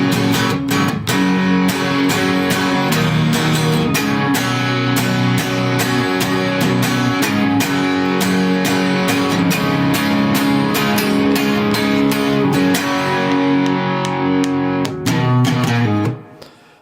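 Distorted electric guitar playing the heavy part of a song, two lines of dense, sustained chords with sharp rhythmic attacks, loud and steady throughout before stopping abruptly near the end, with no talking.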